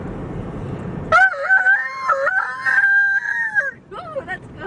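A man imitates a rooster crowing with one long, loud, drawn-out vocal call held close to the mic, ending in a short trailing hoot, after a stretch of steady background noise.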